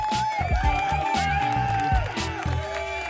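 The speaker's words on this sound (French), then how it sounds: "on va passer maintenant au chorégraphe et un grand applaudissement" A dance-show audience cheers and applauds the choreographer of a ballet company, a lively crowd roar with shouts and whoops, with music or sustained tones running underneath.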